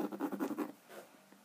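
A pencil scratches marks onto a battery box case for a small DIY 12-volt solar generator, a quick run of close, rhythmic strokes fading into a few faint ticks.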